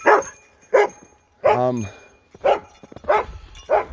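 A dog barks repeatedly in short, sharp bursts, one drawn into a longer yelp, fairly close and loud.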